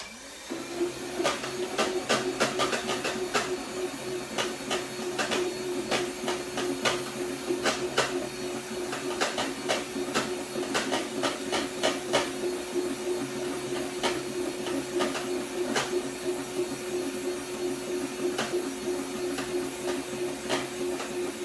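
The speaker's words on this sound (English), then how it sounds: "we're going to continue, okay, to whisk it until they reach stiff peak" An electric mixer whirs steadily as it whisks pandan cake batter to stiff peaks, a continuous close motor hum with rapid rhythmic ticking of beaters against the bowl and no talking.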